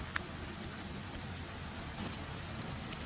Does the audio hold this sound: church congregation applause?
no